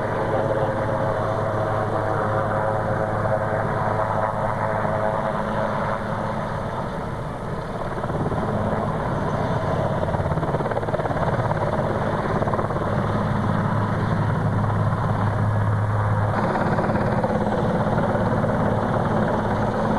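A helicopter engine at an airshow drones loudly and steadily for the whole stretch, with a low, throbbing rumble and a faint whine above it, and no voices.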